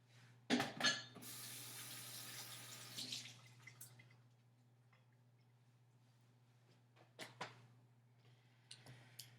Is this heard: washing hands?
yes